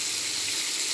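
Gloves are washed under a running tap, a steady close hiss of flowing water lasting about a second, with no talk.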